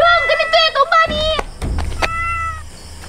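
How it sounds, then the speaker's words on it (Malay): A cat meows several times, high and close, with clicks and thumps in between and a final drawn-out meow. "kucing itu mio"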